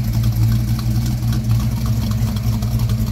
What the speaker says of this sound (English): this is how our cam idles and how it sounds, and this is how the muffler sounds